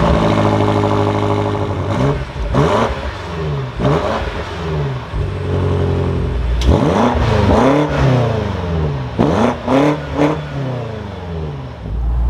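A 2022 BMW M8 Competition Gran Coupe fires up with a loud engine start, then revs repeatedly in sharp bursts that rise and fall, close and alone.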